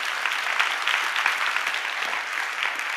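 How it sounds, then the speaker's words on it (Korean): A church congregation at a worship service claps for the drama team, giving a sustained, even round of applause from many hands with no speech over it. "다시 드라마 팀을 위해서 한번 큰 박수 부탁드릴게요"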